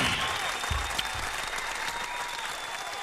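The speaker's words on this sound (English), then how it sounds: "Give these guys a round of applause." A studio audience claps in steady, dense applause for the full three seconds, close and fairly loud, with no talk over it.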